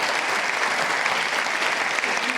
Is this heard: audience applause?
yes